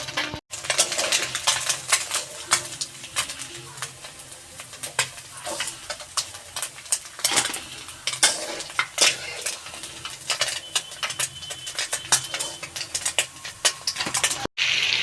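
Small puti fish frying in a pan for a Bengali chorchori, with steady crackle and sizzle under frequent clinks and scrapes of a utensil against the pan, close and busy throughout.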